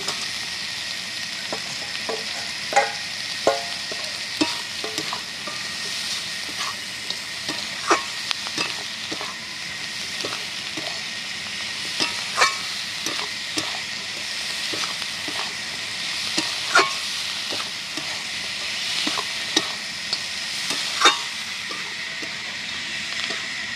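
Onion stalks and a fish head fry in a pan for a Bengali curry, giving a steady sizzle broken by frequent sharp scrapes and clinks of stirring, close and continuous with no talking.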